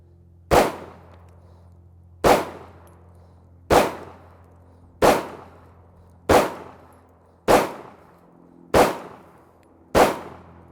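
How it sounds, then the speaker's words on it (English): Eight sharp, loud pistol shots from a Hi-Point C9 firing 115-grain full metal jacket rounds at about 10 yards, spaced evenly about a second and a half apart, each with a short decaying ring. "let's see what kind of accuracy we can get with the C9 pistol here at about 10 yards"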